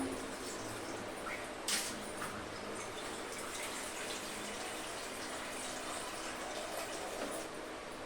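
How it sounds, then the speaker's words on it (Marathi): Water is poured onto the lid of a home cooking pot holding a simmering vegetable dish, giving a steady, close splashing hiss that runs unbroken throughout, with no talking. "झाकणावरती आता आपल्याला पाणी घालायचं"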